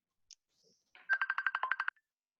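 Electronic interference on a radio phone line: a short burst of rapid, warbling beeps pulsing about eight times, fairly faint against otherwise quiet air, with no speech.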